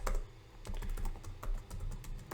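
Rapid keystrokes on a computer keyboard type out a console.log line during a JavaScript setup lesson. The clicks are close, dense and steady for a couple of seconds, with no voice.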